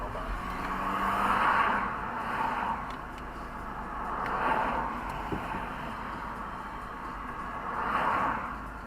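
Steady road noise from a car driving along a street, with a broad rumble that swells and eases roughly every few seconds as it rolls on, fairly even and continuous throughout.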